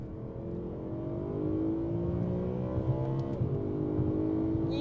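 A BMW E92 M3 V8 revs steadily upward toward 8,600 RPM, a loud, smooth rising engine tone heard alone, with a brief dip near the top before climbing again.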